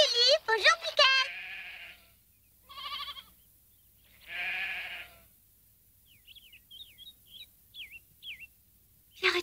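Alpine goats give several wavering bleats, some long and drawn out, in an animated mountain setting, followed by a run of quick high bird chirps.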